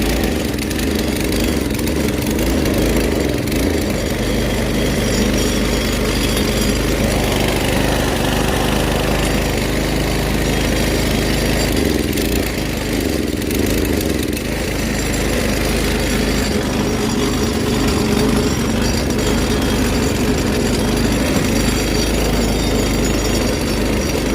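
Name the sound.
go-kart engine running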